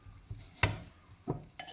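Chickpeas in a frying pan give a low, faint sizzle, broken by a few sharp clatters as the pan is shaken gently, with no voices.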